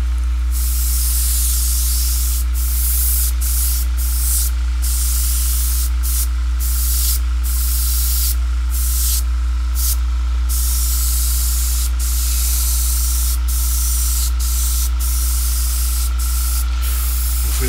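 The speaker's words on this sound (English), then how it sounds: "Just taking my time and getting this airbrushing done." Airbrush hissing steadily as it sprays paint onto a model, a continuous close, even spray with brief pauses and stops throughout, no talking.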